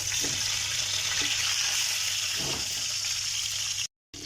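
Chicken shallow-frying in a pan over low heat, a steady soft hiss of oil running throughout with a few faint pops, close by and alone, cutting out briefly near the end.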